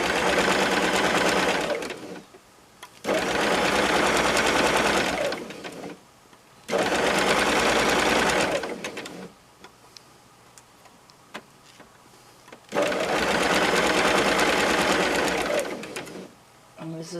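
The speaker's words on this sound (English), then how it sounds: "So I'm just sewing it together." A sewing machine stitches oven glove pieces together in several loud, steady mechanical whirring bursts of about two seconds each, separated by quieter pauses filled with soft handling noises.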